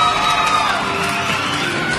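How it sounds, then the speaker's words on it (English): A studio audience at a live reality-show final cheers and claps in a continuous, loud roar of crowd noise. "I want everybody to give them a wonderful round of applause for all the entertainment they've given us"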